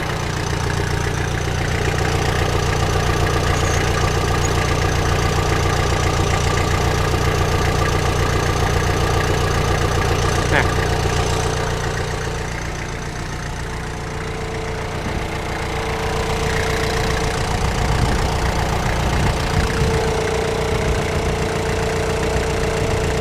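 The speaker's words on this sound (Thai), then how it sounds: "สตาร์ทติดง่ายนะครับเสียงเครื่องไม่เค ไม่ไอ ไม่ดันนะครับ" A Kubota L4508 4WD tractor diesel engine idles steadily up close, a continuous low rumble with a slight dip midway, with no talking.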